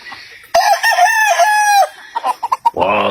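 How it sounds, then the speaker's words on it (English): A rooster that walks like a duck because of a birth defect crows once loudly and close, a long sustained call, followed by a few short clucks and squawks. "It was a rooster."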